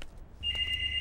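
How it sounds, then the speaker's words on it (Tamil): A telephone begins ringing with a steady, high electronic tone over low background noise, close and clear, without any voices. "எவ்வளோ நேரம் ஃபோன் அடிக்குது?"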